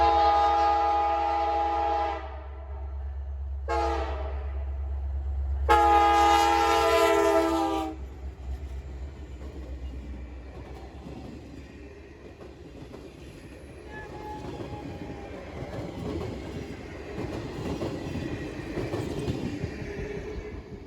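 An Alaska Railroad northbound Fairbanks freight train sounds several long, loud horn blasts in separate bursts, then rumbles past on the main line near Beach Lake Road, with steady clattering wheel noise that swells and lingers.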